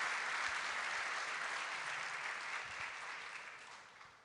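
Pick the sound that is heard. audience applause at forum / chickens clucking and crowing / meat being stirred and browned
audience applause at forum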